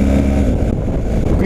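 BMW R 1250 GS motorcycle engine running loud and steady with a brief dip during a quick-shifter gear change, road and wind noise underneath, a voice talking over it.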